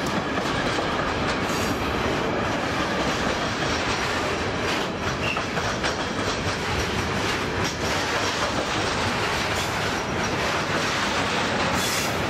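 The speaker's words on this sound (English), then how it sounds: "the northbound Austrian freight train has entered the main line number 1 to head north behind the Venice regional train." A northbound Austrian freight train rolls along the main line at San Pietro in Casale station in Italy, a loud continuous roar of wheels and wagons with rhythmic clatter and faint squeals throughout.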